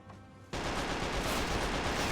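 Heavy gunfire erupts abruptly in the WWII strategy game Men of War: Assault Squad 2, a dense, continuous fusillade of overlapping rifle and machine-gun bursts that stays loud after a quieter opening moment.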